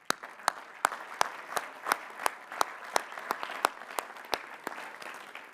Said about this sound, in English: Please recognize the master's degree recipients with our hearty congratulations and